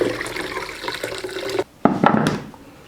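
Sugar ginger syrup is poured into cold water for ginger beer, a steady liquid gush that cuts off abruptly, then resumes in splashing bursts before tapering away, with no talking.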